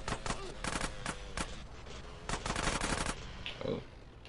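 Rapid gunfire in GTA San Andreas, sharp cracks in quick bursts through the first 1.5 seconds, then another volley near 2.5–3 seconds, loud and close over engine noise, with faint talk underneath.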